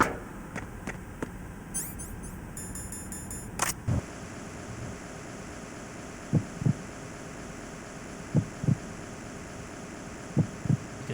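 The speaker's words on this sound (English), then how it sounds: "You can hear the heartbeat." In Metal Gear Solid 2, a game heartbeat thumps in slow double pulses, soft and evenly spaced over a low hum, after a few early clicks and electronic tones.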